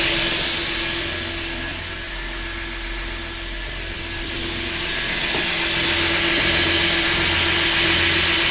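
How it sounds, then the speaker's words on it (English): An electric fan runs in a workshop, giving a steady broadband whoosh with a faint constant hum, fairly loud and close, swelling slightly midway, with no talking. "I'm going to turn my fan on"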